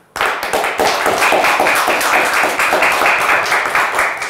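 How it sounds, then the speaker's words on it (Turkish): A studio audience on the Turkish word game show Kelime Oyunu breaks into sudden, loud applause, with close, crisp, dense clapping that starts abruptly and holds steady. "Bize bir alkış daha."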